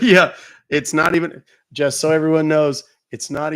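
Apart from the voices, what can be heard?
No everyday noise stands out behind the speech.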